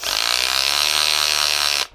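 A power drill runs in hammer mode, giving a loud, steady, buzzing rattle of rapid impacts for almost two seconds before it cuts off abruptly.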